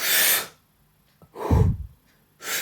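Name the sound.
Wim Hof technique deep breathing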